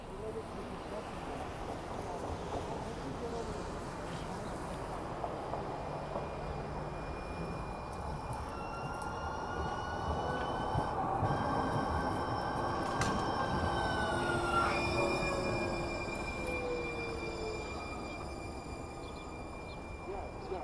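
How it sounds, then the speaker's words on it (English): A Siemens light rail train, J Church line, rolls past inbound at Dolores Park, rumbling louder as it nears, with screeching wheel squeals and metallic whines, then fading slightly; faint talk underneath. "here comes a Siemens train"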